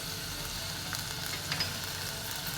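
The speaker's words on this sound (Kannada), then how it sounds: "ಹಾಗೆ ಕೊತ್ತಂಬರಿ ಸೊಪ್ಪು ಹಾಕಿ ಸ್ವಲ್ಪ ಹೊತ್ತು ಫ್ರೈ ಮಾಡೋಣ" Spices frying in a pan for hotel-style South Indian sambar: coriander seeds, cumin, chillies, black pepper and tamarind, giving a steady, soft, close sizzle with faint crackles and no talk.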